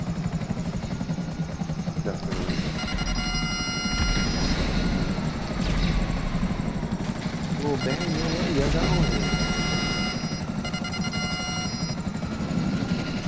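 A helicopter in the video game GTA V, its rotor drone steady and loud throughout with a ringing tone pulsing above, while players talk over it.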